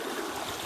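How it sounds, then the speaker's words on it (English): Water rushing through a dammed creek at a gold digging site, a steady broad splashing flow close by with no pauses. "Got a lot more water flow, plenty of drop."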